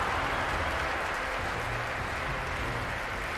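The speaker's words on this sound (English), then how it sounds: "You can hear those crowd yells though." Large esports crowd at The International 10 Dota 2 group stage, a dense, steady roar of yelling and cheering that fills the whole moment without a break.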